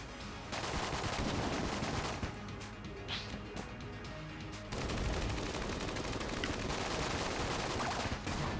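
Mac 10 submachine gun fire in the video game Enter the Gungeon, rapid continuous bursts of shots, fairly quiet, with crackling impacts mixed with game effects.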